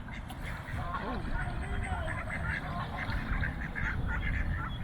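Ducks quack on water along the Appalachian Trail near Boiling Springs, several calls spread through the clip at moderate distance over steady outdoor background noise, with people talking.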